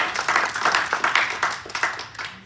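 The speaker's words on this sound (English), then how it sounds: "So can we give Gary a round of applause?" A short round of applause at a board of directors meeting, a small group clapping close by with distinct, uneven claps for a few seconds, no talk over it.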